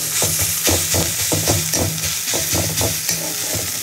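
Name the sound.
stirring sugar into a frying dish in a pan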